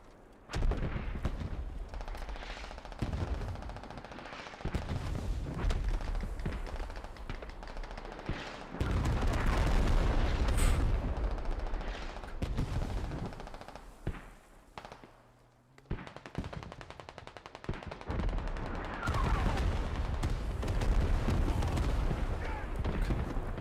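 Gunfire and grenade explosions in the video game Squad, with bursts of rapid automatic shots and heavy booms that come and go in waves, broken by brief quieter gaps.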